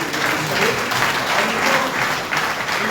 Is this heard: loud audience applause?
yes